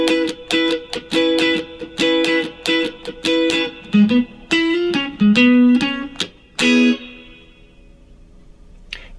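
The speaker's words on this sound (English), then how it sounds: "we want to throw in a riff that sounds something like this." Funk guitar riff played over a vamped chord: crisp, rhythmic single-note and chord stabs with effects, loud and alone, ending in a ringing chord that fades.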